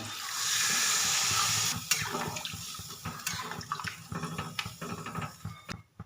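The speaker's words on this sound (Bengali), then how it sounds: "এবার দিয়ে দেবো জল" Water is poured into mutton curry with potatoes in a pan: a steady gushing pour for about a second, then sloshing, bubbling and clinking as it settles into the sauce, close by.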